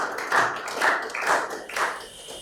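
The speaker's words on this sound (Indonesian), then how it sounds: "Ya, kasih aplaus dulu." Brief burst of applause from students in a classroom, a few clustered waves of clapping rising and falling over a couple of seconds, fairly close and without talk.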